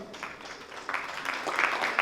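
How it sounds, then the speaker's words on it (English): Audience applause at a business founders' event, a short spell of scattered clapping building slightly louder toward the end, with faint voices underneath. "Clapping is absolutely free"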